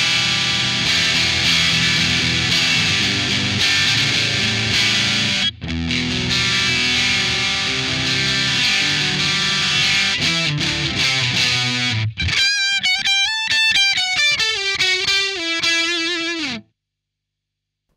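Electric guitar through a Free The Tone Iron Forest distortion pedal with bass, treble and gain all near the middle: loud, thick distorted chords ring out, then a brighter single-note melodic line plays before cutting off abruptly.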